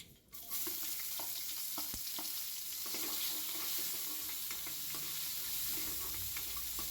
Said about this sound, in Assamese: একেখন কেৰাহীতে মই অকণমান গোটা জিৰা আৰু 2টা শুকান জলকীয়া, তেজপাত আৰু অকণমান পিঁয়াজ দি এইখিনি ভালদৰে ভাজি ল'ম।